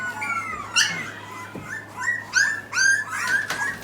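Bulldog or French bulldog puppies whimper and yip in a string of high, wavering cries that rise and fall, close and moderately loud, with short pauses between calls and no talking.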